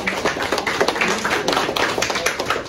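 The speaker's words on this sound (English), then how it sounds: "Great. Let's clap for you." An audience at a school event claps in a brief burst of rapid, uneven hand claps, close and fairly loud, with no talking.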